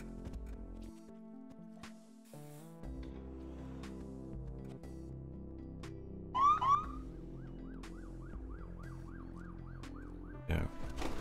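An ambulance siren wails in the hospital management game Project Hospital, a rising and falling electronic tone cycling repeatedly mid-clip over layered background music and game effects, fairly clear.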